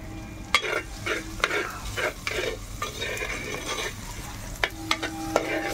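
Elephant yam frying in oil while a spoon stirs it, rhythmic scraping strokes and sharp clinks against the pan over a continuous sizzle, close and clear, with no voices.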